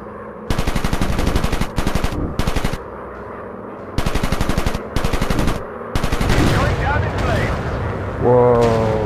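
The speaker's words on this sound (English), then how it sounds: "Bombers are shooting at him." Machine gun fire from bombers in a WWI dogfight game comes in several loud, rapid bursts with brief gaps, then merges into a rumbling wash with engine drone.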